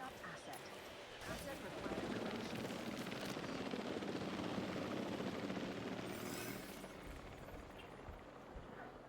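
A helicopter in a video game airlifts an animal for release, a faint, steady rotor drone that builds and holds throughout with no talking.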